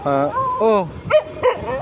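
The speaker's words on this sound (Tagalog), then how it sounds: "nagagalit yung mga alaga ko guys mga aso na nagagalit" Dogs let out a few sharp, whiny yips and barks close by at a hot bus terminal in Bulan, short agitated bursts in quick succession.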